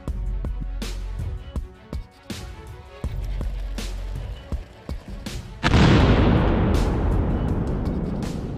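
A US-supplied Javelin anti-tank missile launching from a launcher at an overlook, heard as a sudden loud whooshing roar that swells after a series of sharp clicks and knocks, then continues steadily.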